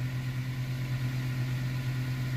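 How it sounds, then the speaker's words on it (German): A Hyundai i30 engine idles just after starting, a steady low hum with a faint, even pulse, running smoothly and close by with no talk. "den Motor starten"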